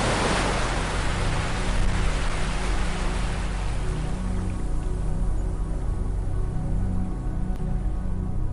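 Ocean waves wash onto a beach in a continuous broadband rush, loud and near, swelling at the start and settling into a steady roaring surf with no voices over it.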